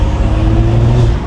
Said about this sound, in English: pops and bangs got louder. The exhaust is louder.